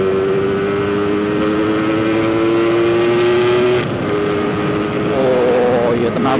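A Yamaha RX King motorcycle powers up a hill with freshly tuned power, its engine a loud, steady close drone that holds a rising pitch and then shifts near the end as it pulls on. A voice speaks over it.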